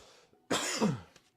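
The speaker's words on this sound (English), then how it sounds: "I got a cough." A single harsh cough bursts out close to the mic, brief and loud, in an otherwise quiet moment.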